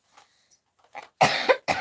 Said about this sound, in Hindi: जुकाम हो गया है, खांसी आ रही है हमें